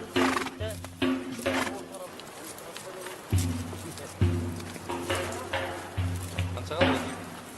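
Horses on a mountain expedition in Kyrgyzstan whinny and neigh repeatedly while hooves clip-clop, and voices talk over the animals throughout.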